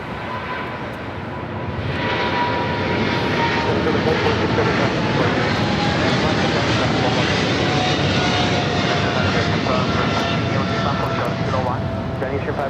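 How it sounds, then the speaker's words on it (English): China Southern Cargo Boeing 777 freighter taking off from LAX for Shenzhen, its engines rising into a sustained, dense roar that stays loud and close, with a faint tonal whine and distant voices underneath. "This is China Southern Cargo 446 taking off to Shenzhen on a 777 freighter."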